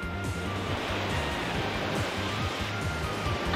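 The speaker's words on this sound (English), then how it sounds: "I can hear the water. It might catch up at any moment now." Rushing water rises in the video game Riviera: The Promised Land, a steady, dense roar of surging flow that fills the scene without pause, close and loud throughout.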